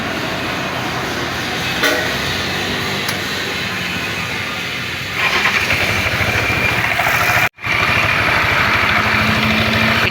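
An engine cranks and catches, then settles into a steady, loud running idle with a continuous mechanical drone, briefly cut by a sudden short dropout before resuming.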